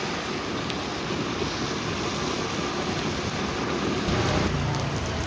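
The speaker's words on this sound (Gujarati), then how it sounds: "જો કેવો મસ્ત વરસાદ પડે છે" Steady heavy rain pours during the first monsoon shower in Surat, a dense continuous hiss close by with faint clicks on top and no voices.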